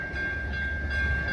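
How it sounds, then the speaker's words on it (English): A Milwaukee District North commuter train, number 2136, arriving at Lake Forest station, with a steady loud rumble and a sustained high tone running through it, and no voices. "Milwaukee North train number 2136 to Chicago Union Station is now arriving."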